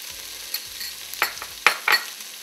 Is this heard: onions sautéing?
yes